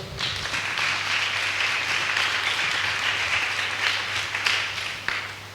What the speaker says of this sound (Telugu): మరి యేసయ్యని నా సొంతం చేసుకుంటా అన్నవాడు చప్పట్లు కొట్టండి